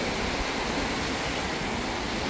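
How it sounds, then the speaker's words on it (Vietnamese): Big ocean waves crash at night on a desert island, a continuous close roar of surf that fills everything, with no voices. "Đêm nay thì sóng to quá mọi người ơi"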